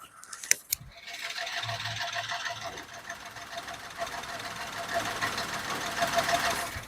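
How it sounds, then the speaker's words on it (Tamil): A car engine idles with a steady, even mechanical hum, following a couple of sharp clicks at the start. "நம்ம இன்ஜின் நாய்ஸுமே நான் காமிச்சிடுறேன்"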